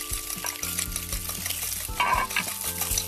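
Baby anchovies sauté in very hot oil for a tortilla, a close bright sizzle with rhythmic stirring scrapes and utensil taps against the pan, without speech.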